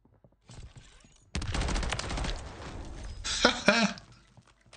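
Rapid bursts of automatic gunfire in Call of Duty: Modern Warfare III Warzone Resurgence, loud and dense with clattering shots, ending in a few sharper separate blasts.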